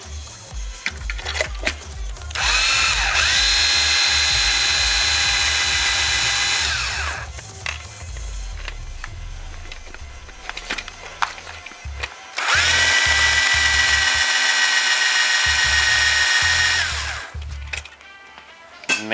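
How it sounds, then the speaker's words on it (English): A power drill with a masonry bit whines loudly in two long bursts, each several seconds, separated by quieter clattering and handling noises. "I guess I can try the drill again."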